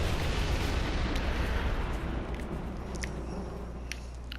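Healing barrels bursting in the superhero game DC Universe Online, a dense rumbling blast that slowly decays into a roaring wash, with faint sharp pops near the end.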